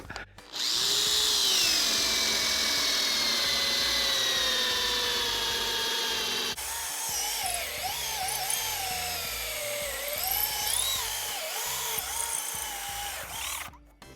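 A power drill bores holes for a garage fishing rod rack, its motor whining loudly and steadily, then pitch wavering and wobbling under load as the bit works through the material.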